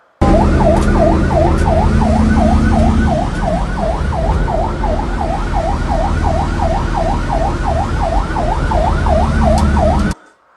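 Wailing ambulance siren in a police-escorted convoy rushing a wounded woman to hospital, loud and continuous with a steady rising-falling cycle over traffic rumble for about ten seconds.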